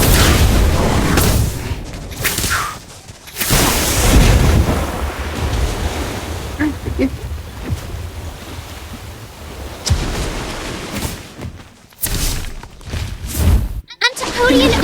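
An Incendio fire spell erupts in Harry Potter: Magic Awakened as loud, roaring whooshes and booming bursts of flame, several surges over a sustained rushing din with brief dropouts between them.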